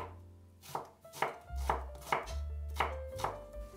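A knife chops garlic cloves on a cutting board in a home kitchen, about six crisp, evenly spaced thuds over a few seconds, near and fairly quiet, with no talking.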